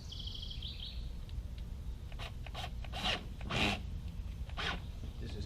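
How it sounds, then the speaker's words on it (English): A hose clamp is tightened onto a 1.5-inch sump pump discharge pipe fitted over a 1.25-inch hub in a crawl space, giving several short close rasping, rubbing strokes in an irregular series. "Put your clamp on there, tighten that up."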